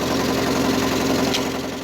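An International Harvester Cub tractor engine idles after warming up, a steady low, rhythmic chugging with a fine mechanical rattle, close and constant with no voices over it.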